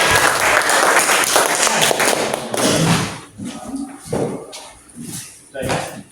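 Classroom applause from students, a burst of dense clapping for a few seconds that breaks off into scattered claps, thumps and voices.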